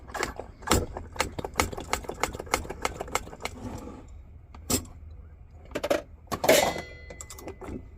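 Hand pump on a Chinese camping stove being worked, giving a quick run of sharp, evenly spaced clicking strokes up close, then a few scattered louder knocks and scrapes.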